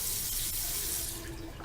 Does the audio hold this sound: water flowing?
yes